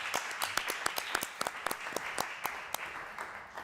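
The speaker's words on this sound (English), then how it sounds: "And give a warm applause also for Quincy Gario." An audience at a Black Lives Matter event gives warm applause as a guest is called on stage, with steady, fairly faint, sparse clapping and a few sharper individual claps standing out.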